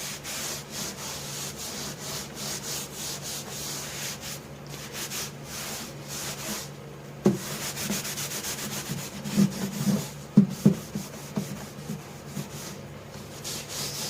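Rubbing and wiping strokes as excess cleaner is wiped off the surface of dirty Peavey 115DL speakers, a steady close scrubbing with a few sharper knocks and squeaks partway through.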